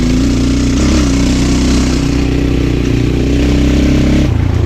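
Motorcycle with a ported 172fmm engine cruising in fifth gear, a loud steady drone with low harmonic hum that holds constant and dips slightly near the end, riding close and continuous without talk.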